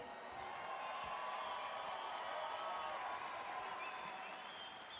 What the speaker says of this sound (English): You got to cheer longer.